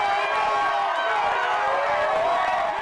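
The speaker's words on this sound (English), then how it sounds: "the fans erupting into cheer as the team takes one more knee as the final seconds tick off the clock" Hundreds of local 49ers fans cheer at a gathering as their team wins the NFC Championship, a dense, sustained roar of crowd voices that stays loud and even throughout.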